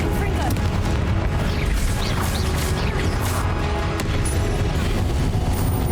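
The Confringo spell exploding in Hogwarts Legacy, a loud, dense burst of booms and crashing impacts amid continuous game combat noise, close and sustained, with a voice speaking faintly underneath.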